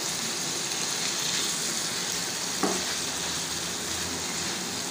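Sautéed vegetables going into simmering gravy for shashlik set up a continuous, fairly loud sizzle and bubbling hiss, with one brief scrape partway through.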